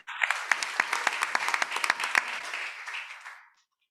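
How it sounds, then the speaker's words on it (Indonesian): A congregation at a church service in Cipinang narcotics prison, Jakarta, claps in a dense burst of applause that holds steady for about three seconds before fading out. "Berikan tepuk tangan bagi kami."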